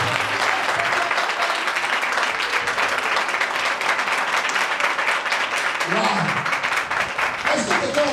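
A church congregation applauds the Lord in a dense, loud burst of clapping that holds steady throughout, with a voice briefly speaking over it near the end.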